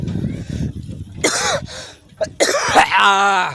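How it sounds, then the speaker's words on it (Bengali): A man coughs and clears his throat several times, harsh rasping bursts mixed with some vocal sounds, close to the microphone. "আজকে কাশিটা বেশি পাইতেছে"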